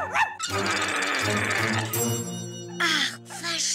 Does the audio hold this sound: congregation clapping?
no